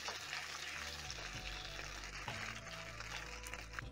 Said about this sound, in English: using my spatula, I'm going to stir the smokies